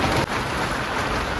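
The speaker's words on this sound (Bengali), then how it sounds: "আজকে বেশি বৃষ্টি হচ্ছে" Heavy rain pours during a night storm outdoors, a loud, dense and unbroken roar of falling water with a gusty wind texture and no voices.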